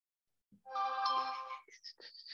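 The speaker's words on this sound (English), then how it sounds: "stuff is blowing up on my phone" A phone notification ringtone chimes once, a bright tonal melody of about a second, then trails off into a few shorter electronic blips, fairly quiet and alone.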